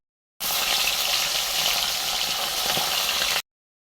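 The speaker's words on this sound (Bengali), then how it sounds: "বাটা মাছগুলো ভেজে নেবো। তেল গরম হয়ে গেছে," Bata fish frying in hot oil, a loud, dense, continuous sizzle that starts abruptly and holds steady for about three seconds before cutting off.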